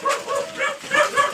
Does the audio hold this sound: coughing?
no